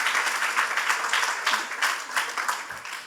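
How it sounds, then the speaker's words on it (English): Audience at a leaders' dialogue award event breaking into applause, dense steady clapping from many hands filling the hall for a few seconds, moderately loud and alone. "Can we give a round of applause?"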